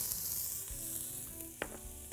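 Grated onion sizzles steadily in olive oil and butter, a continuous close frying hiss with a few soft stirring clicks and one sharper scrape, no talking.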